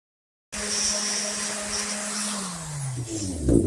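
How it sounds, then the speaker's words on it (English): A sander grinds steadily while rounding the edges of a small wooden-looking mini crossbow part, starting abruptly after brief silence, close and continuous, with the pitch sagging near the end as the load shifts. "I'm going to have to round the edges off this before it'll work, so I'm going to do that with a sander right here."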